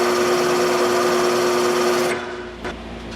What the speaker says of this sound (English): Drilling the tap drill hole.